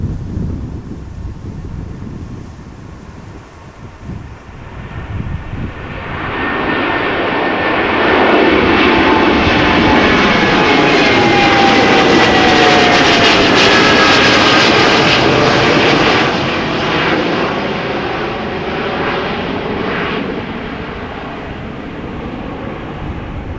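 Boeing 787 Dreamliner jet engines at windy Amsterdam Schiphol, a long roar that swells as the aircraft passes, with a whining tone overhead, then fades, all under gusting wind on the microphone.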